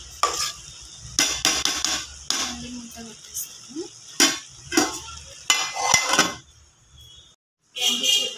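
Methi vegetable pulao is stirred in a frying pan, with repeated bursts of spoon scraping over a soft sizzle and brief pauses between strokes, and a voice talking at times.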